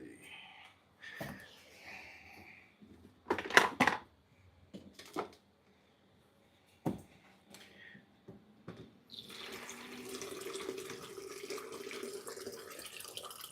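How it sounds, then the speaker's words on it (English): A kitchen tap runs into a coffee maker's water reservoir, first in short bursts among clinks and handling noises, then as a steady, moderately close stream of filling water. "Get some water going for this coffee."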